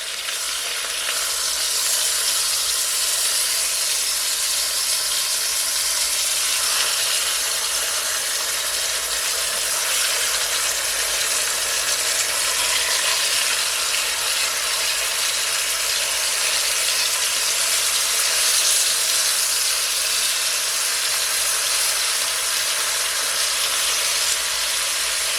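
Chicken pieces searing in a pan for Jamaican brown stew chicken, a steady, loud broadband sizzle and crackle of hot oil running continuously and close by with no talking.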